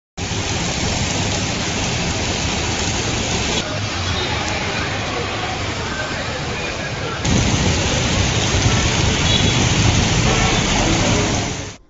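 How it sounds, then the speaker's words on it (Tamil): Heavy early-morning rain falls on Puducherry as a loud, steady, unbroken downpour that hisses for the whole stretch and swells a little louder toward the end, with no voices standing out. "புதுவையில் அதிகாலையில் விழுத்தது மழை."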